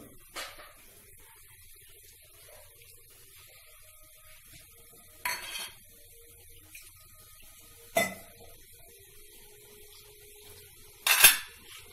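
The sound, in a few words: stirring salt and spices into okra in a pan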